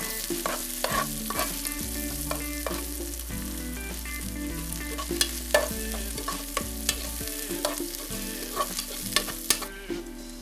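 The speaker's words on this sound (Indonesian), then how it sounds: "tumis bumbu bakar yang sudah diiris-iris dengan 2 sendok makan minyak hingga harum" Sliced spice paste sizzles in about two tablespoons of hot oil in a pan for a fish soup, a steady soft frying hiss broken by repeated scraping stirs and utensil clinks.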